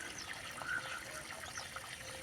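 Water poured into a freshly dug furrow for planting tomato seedlings in a garden, a faint soft trickling and gurgling that stays low and steady for a couple of seconds.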